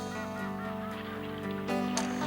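Ducks calling as they fly in, a series of nasal honking quacks over a steady backdrop, with a louder burst of calls near the end.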